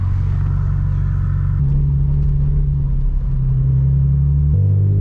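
A 2006 BMW Z4 M engine revs hard from inside the car, loud and steady, with the engine pitch stepping up and down through several distinct rises across the clip and no talking.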